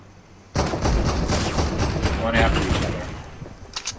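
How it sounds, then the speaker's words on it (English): Rapid gunfire from a running gun battle in Fortnite, a dense, continuous burst of shots that starts abruptly and stays loud, with someone talking over it. "So they're having a running gun battle."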